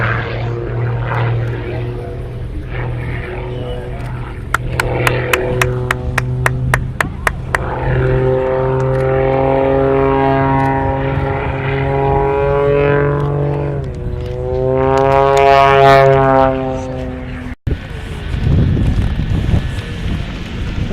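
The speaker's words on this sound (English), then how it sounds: "This is where he will hover with the aircraft gradually sinking into its own smoke." A propeller aerobatic plane hangs in a hover at an airshow, its engine droning loudly with rising and falling harmonic whines as the pitch shifts, ending in a sharp cutoff followed by wind rush.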